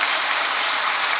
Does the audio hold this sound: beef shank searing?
no